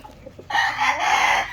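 A Sulpicio Canarias gamecock broodstag with a red eye and straight comb crows once, a loud, close, sustained call lasting about a second after a few faint clucks.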